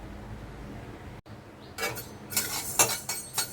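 Coriander seeds roast in a pan, first as a soft low rustle and then as scraping and clinking of a utensil stirring against metal, gradually getting louder and more rhythmic.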